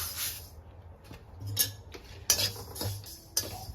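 Cumin seeds dry-roasting in a pan while being stirred constantly for Malvani masala, heard as a quiet scraping hiss broken by several sharp clinks and taps of the spoon against the pan, with no talking.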